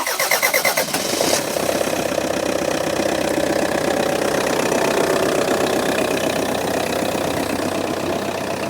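A diesel L series engine turns over and catches, settling immediately into a loud, steady, rhythmic idle that continues alone for several seconds.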